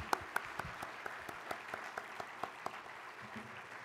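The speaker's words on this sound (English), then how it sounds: "So let's give a round of applause" An audience applauds at an awards dinner, with scattered individual claps standing out over a soft, continuous patter heard from a distance.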